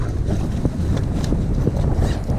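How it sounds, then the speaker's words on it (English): A strong straight-line wind during a lightning storm buffets a fishing boat out alligator gar fishing. It makes a loud, continuous roar with gusty thumps against the microphone and no speech. "this is a straight line wind"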